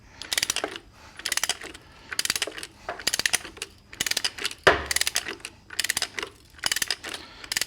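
Repeated bursts of metallic ratcheting clicks, close and sharp, coming in short rhythmic strokes while a wrench works to break a nut free on a Harley primary shaft, with one heavier clunk midway.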